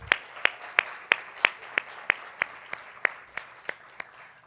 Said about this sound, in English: Clap it up for yourselves for being here.